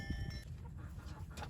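Backyard chickens cluck quietly in short irregular bursts, with faint rustling in the background and no talk.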